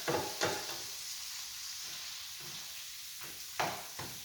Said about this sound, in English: we're going to fold all these ingredients around